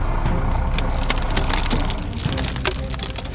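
A bridge collapses in a loud, continuous rumbling crash with cracking and splintering debris, dense and heavy throughout.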